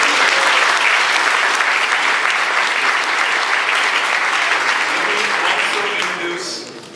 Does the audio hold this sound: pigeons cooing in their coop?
no